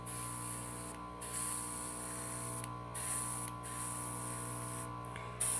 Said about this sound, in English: you can see it sprays the paint